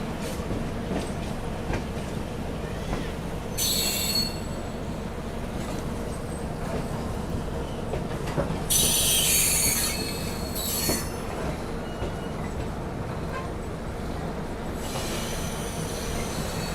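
A Tata–Kharagpur MEMU train pulls away over a steady rumble of rolling wheels, and its wheels let out loud, high squeals in a few separate bursts.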